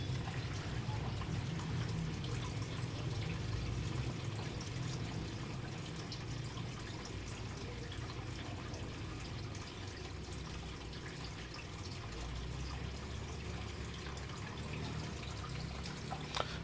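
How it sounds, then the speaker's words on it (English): Continuous splashing and trickling of water being poured into a Liny LY-609 hang-on aquarium filter, steady and close, with a low hum underneath throughout. "Now I'm going to fill it up with water"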